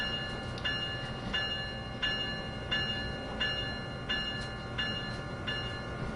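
Steady rumble of a locomotive at Sunnyside Yard in Train Sim World 2020, with a regular series of light metallic clicks about every 0.7 seconds while it sits coupled to a train.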